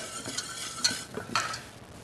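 Potato salad mixture being gently mixed in a bowl, soft wet scraping and stirring strokes in a few quiet bursts, close and faint.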